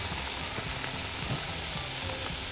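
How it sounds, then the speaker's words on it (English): Bacon sizzles on a Blackstone griddle in a steady, dense crackling hiss, close and loud, with faint scraping clicks underneath and no talking. "We're going to add some bacon over here, because bacon is cool, good stuff."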